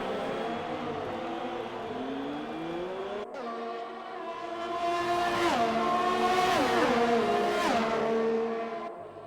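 Formula 1 cars roar through a racing video game, several engines layered with rising and falling pitch as they shift gears, growing louder and denser as cars bunch up, with sharp gear-change steps throughout.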